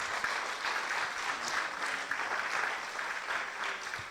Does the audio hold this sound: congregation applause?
yes